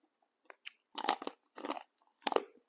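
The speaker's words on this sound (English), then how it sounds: "Very crunchy." A crunchy snack is chewed in close, quiet bites, a handful of short crisp crunching bursts separated by brief pauses, with no talking.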